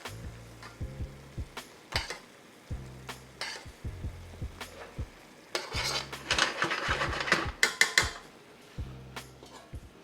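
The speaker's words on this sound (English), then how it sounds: "you can just baste your crab legs and all this flavorful sauce that we've got here" Crab legs are basted in garlic butter sauce in a skillet, with a spoon scraping and tapping the pan in a steady repeating rhythm and a faint sizzle of butter underneath, close and fairly loud.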